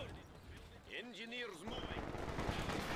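Machine gun fire in an online video game rattles in a dense, noisy stretch, with a whistling tone partway through and voices nearby.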